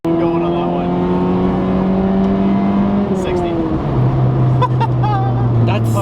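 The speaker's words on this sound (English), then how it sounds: "you could hear the clutch going on that" A Honda Civic EK accelerates hard, and the clutch engaging makes the engine note dip before it climbs again. The loud engine drone shifts pitch as the car gathers speed, with a faint voice under it.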